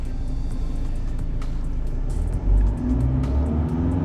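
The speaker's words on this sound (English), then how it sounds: "It's a diesel. It started. The car is on, and we'll now try to rev slightly." A Citroen C5 Aircross diesel engine runs at a rough idle, then revs up with a deep swelling roar before settling back, close and loud.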